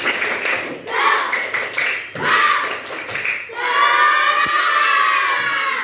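Schoolchildren in a classroom shout a spirit chant together with rhythmic clapping, bursts of loud voices and claps in short phrases ending in a longer cheer.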